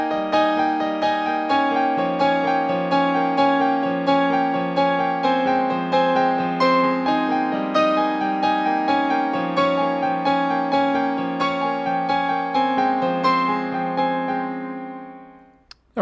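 Piano plays the repeating arpeggiated riff from a song, a bright cascading pattern of notes over steady bass, close and alone, fading out at the end.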